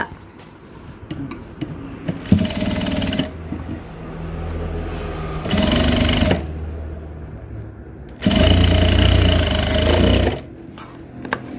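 A home sewing machine stitches the neck of a frock nightie in three separate bursts of rapid mechanical clatter, each a few seconds long. Quieter handling noises fill the pauses between runs, and no one speaks.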